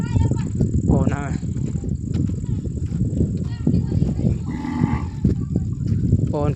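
Cattle low repeatedly at close range on a farm at evening, several drawn-out moos rising over a steady background, with people talking throughout.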